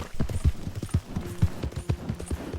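Horse trotting in Red Dead Redemption 2, a steady clip-clop of hooves at an even rhythm, fairly close and moderately loud, with no talk over it.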